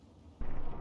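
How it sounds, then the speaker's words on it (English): Frag grenade blast in Fallout 3, a sudden loud low boom at the start that holds as a dense rumbling roar to the end, with no voices. "So I threw a few frag grenades and nearly blew myself up in the process."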